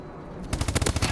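Automatic gunfire in the Call of Duty Advanced Warfare Ascendance multiplayer map pack: after a moment of quiet ambience, a loud rapid burst of shots rattles off in a steady stuttering rhythm, close and dominant.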